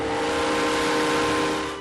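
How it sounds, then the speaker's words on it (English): A steady, loud hiss with a sustained whistle-like tone running through it, like a steam train passing at close range. "From the sound of steam engines"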